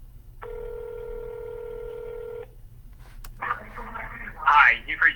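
A telephone dialed for real estate cold calls: a steady two-second dial tone, then a rapid run of touch-tone keypad beeps, with a faint speaking voice coming through the line at the end.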